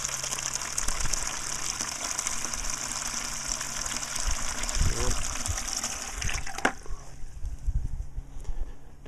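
A small plugged-in electric pump gushes water steadily into a container for emergency storage, a loud, close, continuous rush that cuts off abruptly toward the end, leaving quiet room tone.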